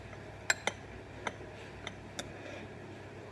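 A metal spoon stirring tea in a glass of cold water, giving a few sparse, light clinks against the glass in a quiet room.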